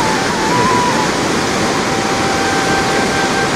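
Water rushes loudly and without pause along a mountain route between Tanakpur and Champawat, a thick, steady roar like a stream or waterfall heard up close.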